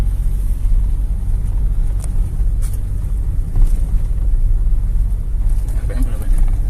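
A Toyota Innova petrol engine climbing an incline at around 2000 rpm gives a steady, close, low droning hum that holds even throughout, with faint road and wind noise.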